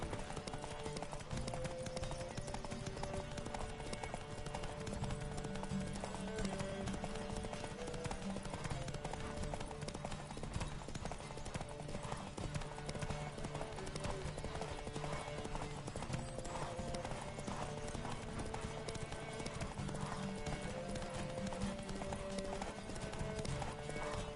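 Horse hooves gallop in a rapid, steady clip-clop during a race in The Witcher 3: Wild Hunt, close and continuous, with game music playing underneath.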